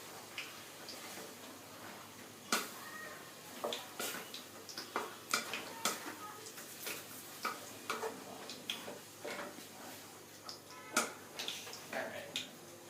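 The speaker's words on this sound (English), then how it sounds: "So we'll stir that in" A spoon stirring pineapple curry with yogurt and coconut in a pot, producing irregular soft clinks and taps against the vessel, quiet and close, with faint talking.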